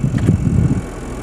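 Blower motor of a Hyundai Santa Fe running after replacement, a steady close airy whoosh with low rumble that fades slightly toward the end, heard alone.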